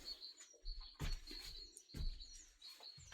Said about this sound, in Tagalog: Naririnig nyo yung huni ng ibon?